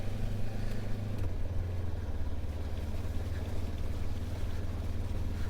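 A motorcycle riding through a sloppy, muddy track: a steady low engine drone with rumbling pulses holds close and loud throughout, with no clear revving peaks.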